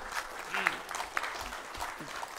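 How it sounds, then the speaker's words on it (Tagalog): A government briefing audience in Baguio claps under a man's speech, a soft, scattered patter of applause that sits well behind the louder voice. "Ngayon lang ako naka-receive ng palakpak dito pa sa Baguio"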